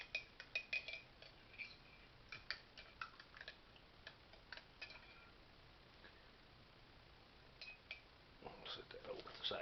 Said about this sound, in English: Stir my coffee up.